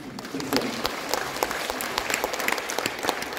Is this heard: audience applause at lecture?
yes